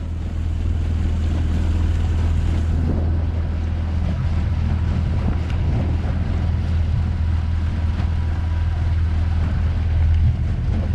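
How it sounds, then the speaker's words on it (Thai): A boat engine drones steadily on open water, a loud constant low rumble mixed with wind buffeting and rushing water throughout. "ผู้หญิงขับเรือครับวันนี้"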